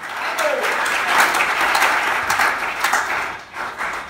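A church congregation claps and cheers in a sustained burst of dense applause that dips briefly near the end before resuming.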